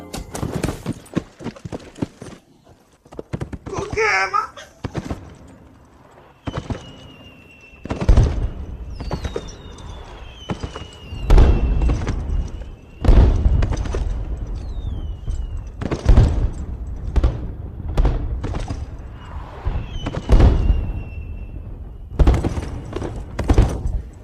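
Fireworks go off outdoors, heard as a string of sharp booming bursts at irregular intervals with thin rising whistles in between, loud and echoing for over twenty seconds.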